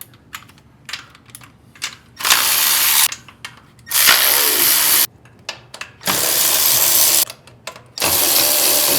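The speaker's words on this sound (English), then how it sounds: "Ratchet. Get these 4 bolts off here." A ratchet removing bolts on a 1959 Pontiac, heard as loud, close bursts of rapid clicking, each lasting about a second, separated by short pauses and lighter ticks.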